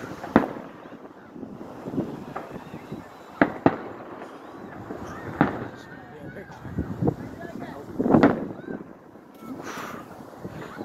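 New Year's fireworks burst outdoors on a cold night, with several sharp bangs and booming explosions at irregular intervals, some near and loud and others more distant, while people talk and wind buffets the microphone.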